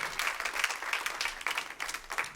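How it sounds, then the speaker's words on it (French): An audience applauds with steady, fairly distant clapping that swells and dips in waves. "On pouvait l'applaudir."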